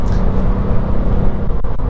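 VW Up! GTI engine under hard straight-line acceleration, a loud dense cabin roar held steady for a couple of seconds.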